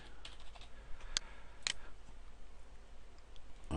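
Light, sparse clicks of password keys tapped on a computer keyboard, a few distinct taps standing out over a steady quiet background hum, close and soft.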